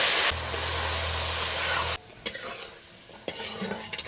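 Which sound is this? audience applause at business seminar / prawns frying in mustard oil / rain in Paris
prawns frying in mustard oil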